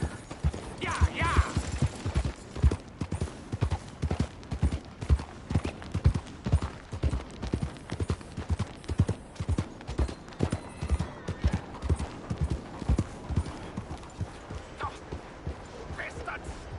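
Steady clip-clop of a ridden horse's hooves in a Western-style video game, a brisk regular rhythm of hoof strikes running throughout, with occasional voices and other game sounds layered over it.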